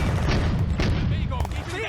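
Tank cannons fire in a WWII battle in the Firefight video game, with Panzer 38 and BT-7 tanks trading shots in a dense volley of loud booms and crackling impacts over a rumbling battle background.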